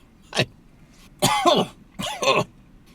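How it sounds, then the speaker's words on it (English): A person coughs and clears their throat up close in three sharp, rasping bursts separated by short pauses. "That coughing is a good thing,"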